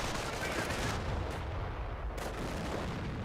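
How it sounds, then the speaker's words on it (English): M2 machine guns firing in Company of Heroes: continuous dense rattling gunfire and booming battle noise, steady and loud throughout a short real-time strategy combat scene. "Now got the M2s firing away."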